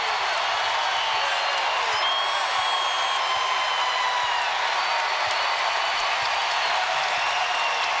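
A basketball arena crowd applauds and cheers during a college game between William & Mary and Northeastern, a dense, steady roar of clapping and voices filling the hall at even loudness throughout.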